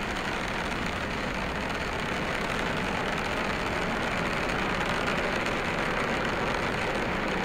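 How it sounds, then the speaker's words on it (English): In Spaceflight Simulator, a Falcon 9's nine Merlin engines give a continuous broad, hissing roar that stays steady and even for the whole stretch, with no talking. "All 9 Merlin engines have stage lit."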